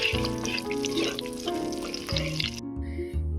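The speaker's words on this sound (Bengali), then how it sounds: "এবারে ফোড়নটা একটু ভেজে নেব" Two bay leaves, whole garam masala and four peppercorns sizzle in hot oil in a village kitchen, a soft crackling fry under a steady tonal background.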